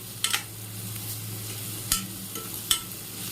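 Onions sauté in a pan toward golden brown for a rajma kidney bean gravy, a soft, steady sizzle broken by three or four brisk spatula scrapes and knocks.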